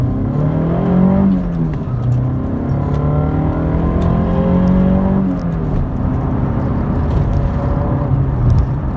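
A mk2 Vauxhall Cavalier 1.8i GLSi pulls hard away from traffic lights, its engine note climbing steadily through the gears with brief dips at each change, loud and close from inside the car, with no talking.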